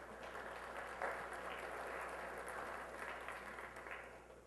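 Fairly faint applause from a church congregation during a Sunday service, an even patter of clapping sustained across the whole stretch with no clear voices.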